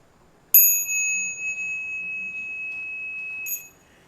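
A single bright bell strike rings out and sustains with a long, clear tone, followed by a second lighter ding near the end; no talking.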